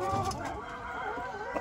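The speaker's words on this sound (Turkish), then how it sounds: "Damızla aldığımız tavuğumuz." A breeding hen in a tent coop clucks softly in a brief, faint burst of low, murmuring fowl sounds against steady background noise.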